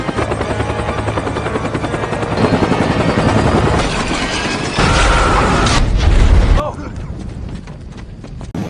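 A helicopter in a film scene thunders with a loud, rapid rotor chop that swells and shifts, joined by bursts of gunfire or impacts, with a narrating voice over it.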